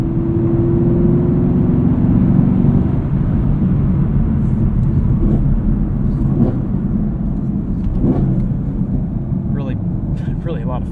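A 2018 Chevrolet Camaro 2SS manual drones loudly with a rising rev during a heel-toe downshift that drops away, followed by steady road rumble and someone talking over it.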